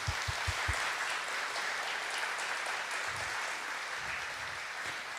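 A church congregation applauds a priest, Padre Jonas, with steady dense clapping filling the hall at moderate volume, a few louder near claps standing out at the start.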